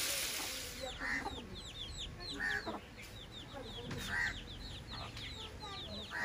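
Chickens at a village home cluck in repeated short bursts close by, with chirping birds in the background throughout.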